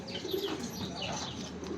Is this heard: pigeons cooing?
yes